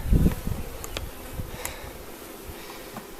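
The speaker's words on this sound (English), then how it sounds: "Hello, bee. Kind of crawling all over me." Honeybees buzz around an opened beehive during an inspection, a faint, wavering hum with brief passes of single bees near the listener, after a short low thump at the start.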